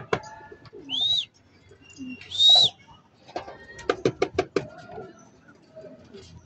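Gamefowl roosters and chickens make a few close clucks and short calls, including two sharp high cries and a quick run of clucks, with quiet gaps between them.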